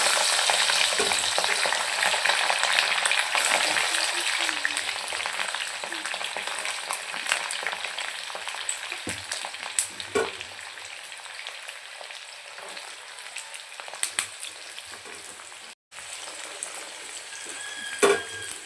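Garlic cloves fry in hot oil over a low gas flame for garlic pickle, a steady close sizzle with crackling pops and occasional clinks of stirring, gradually quieting slightly over time.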